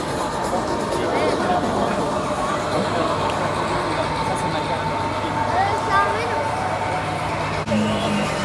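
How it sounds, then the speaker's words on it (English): A large crowd at the Monaco Grand Prix makes a steady, dense hubbub of many voices. Road and traffic noise carry underneath, and nearby people talk now and then. "Big crowd."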